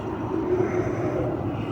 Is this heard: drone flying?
yes